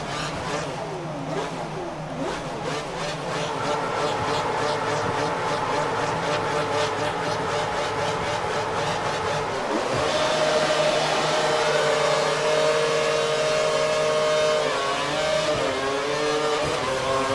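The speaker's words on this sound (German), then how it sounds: "da drehen die Reifen natürlich durch" A Formula 1 car in F1 2012 spins its wheels during a race at Abu Dhabi, a sustained high engine whine that rises and shifts pitch. Someone speaks over it now and then.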